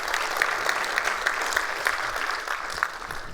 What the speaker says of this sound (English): just put a round of applause for Dr. John